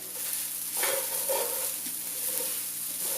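Turmeric rice being stirred in a pot after the stove is off, with soft scraping and a light sizzle, quiet and close, with no talking.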